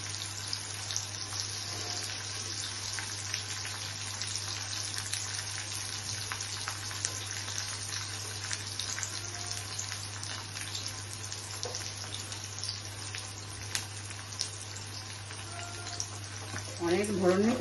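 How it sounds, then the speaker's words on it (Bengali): Pointed gourd (potol) pieces frying in oil until dark, giving a steady, close sizzle with a constant low hum underneath and a louder clatter near the end. "ফ্রাই করে নিচ্ছি।"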